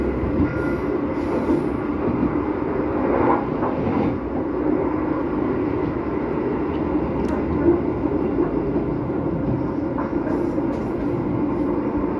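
KRL commuter train running along the rails near Kranji station in Bekasi, with a steady loud rumble of wheels and carriages throughout, some faint squeal on the track and no talk.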